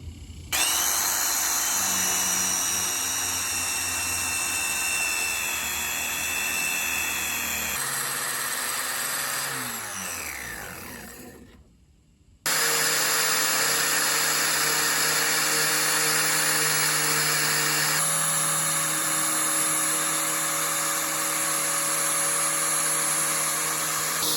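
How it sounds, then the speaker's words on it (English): Angle grinder cutting a polyurethane rear wing for an RSX Type S, a loud high-pitched whine that holds under load, spins down and falls silent briefly, then starts up again and grinds steadily. "I'm gonna be using a grinder here"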